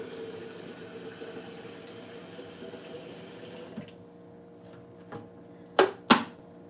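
Tap water runs steadily into a pot for boiling ramen noodles, a soft continuous stream that stops partway, followed by a few clanks and two sharp knocks.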